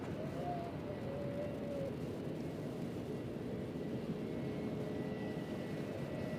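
A United Boeing 737-800 jet departs Nashville International Airport, a steady distant engine roar with broad rumble that holds level throughout.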